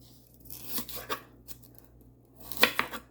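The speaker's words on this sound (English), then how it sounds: "for the bok choy, I just cut the ends like that, and then I do this" Knife cutting the ends off bok choy on a board, a few separate sharp chopping strokes with quiet gaps, the last pair louder and closer.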